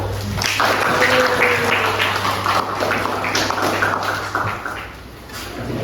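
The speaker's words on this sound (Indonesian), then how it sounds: "Kita beri tepuk tangan untuk kelompok 1." A class of students applauds a presenting group in a classroom, a dense burst of clapping lasting several seconds over a steady electrical hum, easing off toward the end.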